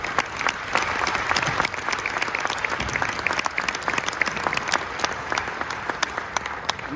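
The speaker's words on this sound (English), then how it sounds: "we should give Riway International a big round of applause" An audience at a leadership training event in Warsaw applauds, producing dense, loud, continuous clapping from many hands that holds steady throughout with no talk.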